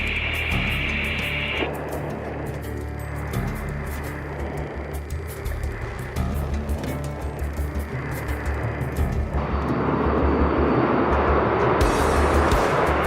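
F-16C Falcon jet engine in a flight simulator game, a steady broadband roar with low rumble that swells louder and rougher toward the end, continuous with no talking.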